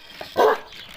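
A dog gives a single short bark, close and fairly loud, followed by a faint whimpering yip.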